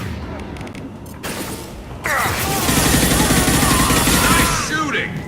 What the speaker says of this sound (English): Nice shooting!